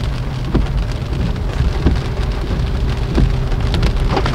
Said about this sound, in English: It is heavy rain is happening here